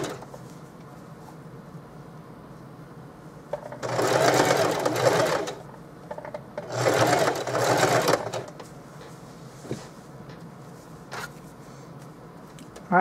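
A sewing machine stitching a flannel shirt runs in two steady whirring bursts of a second or so each, close and loud, with quiet handling and faint clicks in the pauses between them.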